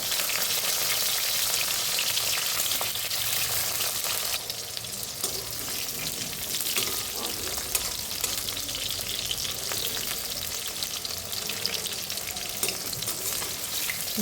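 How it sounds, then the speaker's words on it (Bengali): Pieces of pointed gourd (potol) fry in hot oil for a labra dish, giving a steady, close, dense sizzle throughout with no voices. "এবার দিয়ে দিলাম পটল পটলটাকে একটু হালকা জাস্ট ভেজে নেব"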